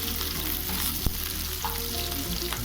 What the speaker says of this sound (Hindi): तो प्याज को थोड़ी देर भून लेते हैं, थोड़ा सा गोल्डन ब्राउन होने तक